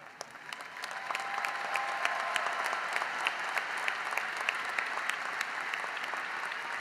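A commencement crowd applauds for education graduates, sustained clapping from many hands with a few sharper individual claps standing out, steady and fairly loud for the whole stretch.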